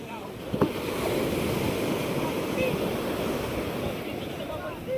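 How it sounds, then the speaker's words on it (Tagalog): Continuous ocean surf roars with wind buffeting the microphone, a rough steady wash of water around a boat. "Lalaki din ang alon eh"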